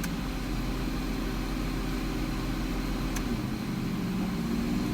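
A 2006 Mazda MPV engine idling low with a sticky idle air control valve, a steady, close hum with a constant low drone and a few faint ticks, no voices.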